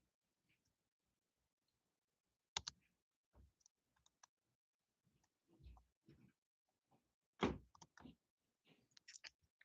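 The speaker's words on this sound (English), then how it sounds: "I'm going to type in a command from my computer." Scattered computer keyboard key presses while a command is typed into a PC's Command Prompt, quiet clicks in short irregular bursts with a louder cluster of taps near the end.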